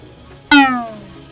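A dark cat monster in a mobile monster-battle game gives one loud, sharp meow that starts suddenly and trails off over about half a second, with nothing else around it.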